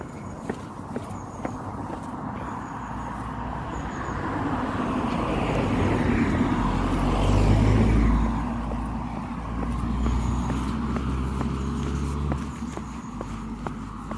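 Cars drive past on a road near a railway. A low rumble of tyres and engines swells as a vehicle approaches, peaks midway and fades away, while faint clicks and outdoor noise continue throughout.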